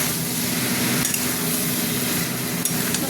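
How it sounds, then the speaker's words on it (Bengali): Salted bottle gourd (lau) fries in a pan with a dense, continuous sizzle, close and loud, with occasional stirring scrapes and no voices. "লাউটাকে ভাজতে ভাজতেই দেখো জল বেরিয়ে গেছে।"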